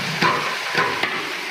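A ginger, garlic and green chili paste sizzles in a pan with browned onions while cooking catering-style aloo matar, with steady frying hiss broken by a few scraping stirs of a spoon.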